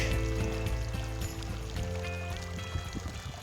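Water flowing in Yellow Creek in Bryce Canyon, a steady rushing and pouring stream heard up close, continuous with no voices over it.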